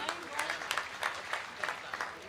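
A comedy poetry audience claps with rapid, dense applause, moderately loud and steady for a couple of seconds.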